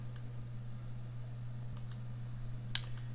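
Computer mouse clicks during a Windows installation, a few faint sharp clicks scattered over a low steady electrical hum, with a single more distinct click near the end.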